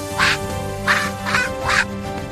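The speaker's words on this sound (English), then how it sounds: "It's a duck." A duck quacks four times in a steady rhythm, each call loud and close, with nothing else heard.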